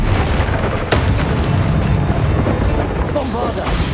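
Confringo fire spell blasting in Hogwarts Legacy, a loud booming burst with a sharp crack near the start, followed by rumbling explosive noise and a spoken incantation over the din.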